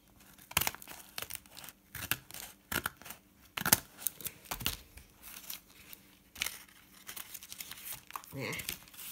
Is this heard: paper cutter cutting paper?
yes